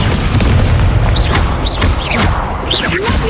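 Fire spell blasts from the Hogwarts Legacy video game, in which the incendio spell is cast, land as a loud booming burst with crackling, swooshing magical effects.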